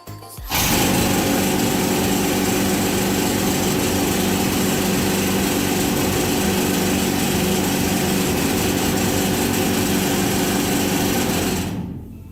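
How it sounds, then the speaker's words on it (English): A loud, continuous mechanical rattle of a jackhammer drill in the Gold Reef City mine starts abruptly, runs steadily for about eleven seconds, then cuts off. "And then that's a jackhammer driller."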